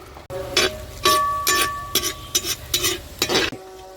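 Cashews and raisins fry in hot oil in a traditional uruli, a constant sizzle broken by a series of sharp rhythmic stirring scrapes and metallic clinks, close and fairly loud, with no talking.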